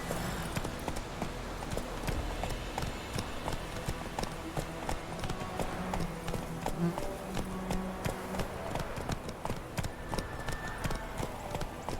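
Roach the horse gallops in The Witcher 3, a steady rapid clip-clop of hooves running continuously under game ambience and faint background voices.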